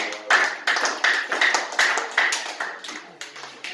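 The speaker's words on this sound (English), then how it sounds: "A round of applause for" A small school group at a classroom project presentation claps in a ragged round of applause, sharp hand claps repeating in quick uneven bursts, close and fairly loud with no talk over it.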